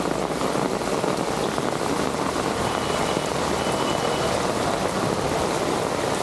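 Heavy rain pouring in Bengaluru, a dense, constant wash of water that stays loud and unbroken throughout, with no voices.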